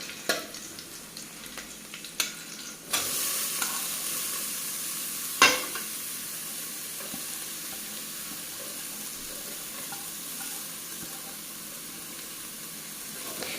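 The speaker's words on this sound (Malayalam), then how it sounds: "ഇനി നമുക്കിതിലേക്ക് സവോള ചേർത്ത് കൊടുക്കാം." Sliced onions sizzling in hot oil in a pan for a homemade chicken egg roll, a continuous close hiss broken by a few sharp stirring clinks, with no voices.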